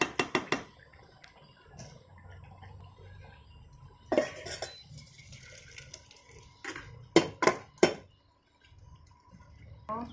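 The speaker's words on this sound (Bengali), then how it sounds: "আমি এবার এটা ঢেলে নেব অন্য পাত্রে" Bottle gourd bori posto, a Bengali curry with potato, being transferred from a cooking pot into another pot, heard as sharp metallic clinks and scrapes of a spoon against the pots in short bursts, with faint quiet gaps between.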